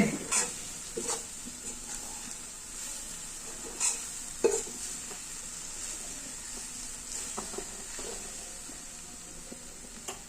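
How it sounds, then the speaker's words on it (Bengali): Moringa leaves being stirred in a pan, soft scraping strokes and light sizzling with a steady hiss, a few louder scrapes standing out, no voices. "নাড়াচাড়া দেব।"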